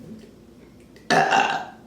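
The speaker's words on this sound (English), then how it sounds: "I love burping." A single loud, rough burp follows chugging ginger ale, bursting out after a second of near quiet and trailing off close to the microphone.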